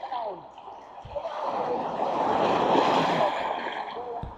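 Strong sea waves slap and wash against a small tourist boat off Mati City, a broad rushing surge that swells and fades over a few seconds, with splashes heard close by.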